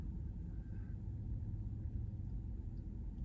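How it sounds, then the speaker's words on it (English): A steady low rumble fills the quiet cabin of a car in a parking lot, faint and constant with no other sounds. "I'm in my car right now recording this"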